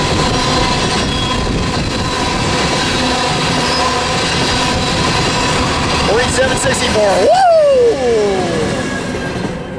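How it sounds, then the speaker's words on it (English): An eastbound freight train rumbles past close by at Tehachapi, wheels clattering and squealing in rising and falling tones, with a voice briefly speaking over the noise. "Nice train"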